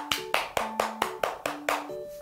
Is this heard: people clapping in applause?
yes